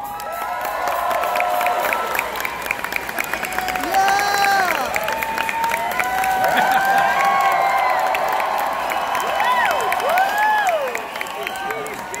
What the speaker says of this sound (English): Everybody applaud.